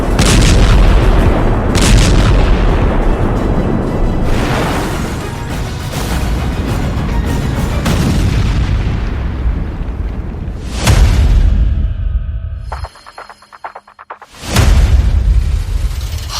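An Israeli airstrike sets off a series of loud, deep blasts, several heavy booms with rolling rumble between them, a brief near-silent gap, then another sharp explosion near the end.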